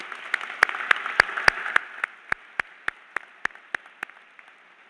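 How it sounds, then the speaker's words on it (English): Scattered handclaps ring out in a large space at a high school graduation ceremony: a handful of sharp, spaced claps that slow and thin to single echoing claps over a few seconds. "So graduates, let's give our parents a round of applause."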